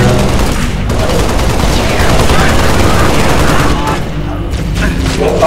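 Dense, continuous gunfire and explosions from a Halo: Reach heroic campaign battle, rapid bursts layered with booms, loud and sustained throughout with a voice talking over it.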